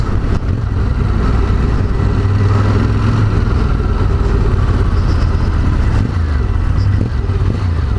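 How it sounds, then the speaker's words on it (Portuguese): A Ducati Monster 1200 S engine on a test ride, a loud, steady, throaty drone that rises and falls slightly as the bike pulls, with wind rush throughout. "Motorzinho da Ducati respondendo ali, ó."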